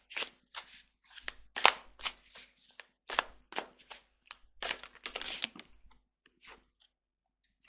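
Tarot cards shuffled by hand in close, crisp bursts of riffling and snapping, repeated in short irregular runs with brief pauses between them and no voices.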